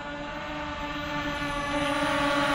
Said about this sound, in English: Pretty stable little drone, especially for its light weight.